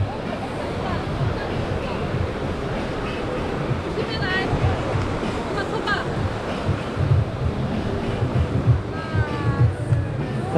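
Waves wash onto Echo Beach in Canggu, Bali, in a steady broadband roar, mixed with gusty wind noise on the microphone and voices talking nearby.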